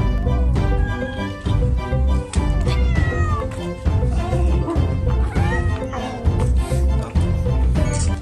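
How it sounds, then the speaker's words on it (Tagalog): Many cats on an island meowing loudly and repeatedly, overlapping calls from several animals close by with no pauses. "Pinapayagan nila ang mga visitors na mapalapit sa mga pusa."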